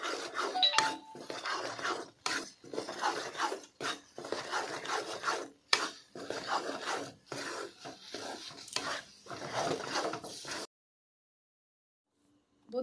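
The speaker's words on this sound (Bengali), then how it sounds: "সুজিটা আমি ডোর আকারে তৈরি করে নেব।" Semolina dough is kneaded and pressed by hand, giving a run of close, soft rubbing and slapping pushes in an irregular rhythm before stopping into silence near the end.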